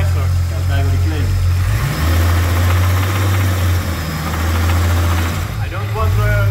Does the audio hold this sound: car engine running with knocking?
yes